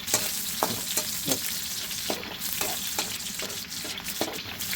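Onions sauté in a pan for frog adobo, a dense continuous sizzle broken by regular scraping strokes of a spatula stirring them, close and steady without speech.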